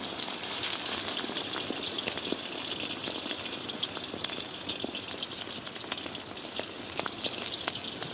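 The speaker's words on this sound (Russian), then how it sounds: "Пока наши грибочки там жарятся" A steady, crackling sizzle of mushrooms frying in a kazan cauldron on a tandoor, dense popping and spitting continuing evenly throughout with no voices.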